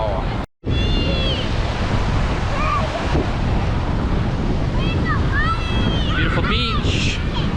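Surf breaks on a busy beach at Playa Santa Maria in Cadiz, Spain, a continuous broad wash of waves with wind buffeting the microphone, a brief dropout near the start, and faint voices and calls from beachgoers mixed in.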